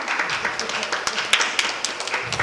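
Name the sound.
audience clapping at medium intensity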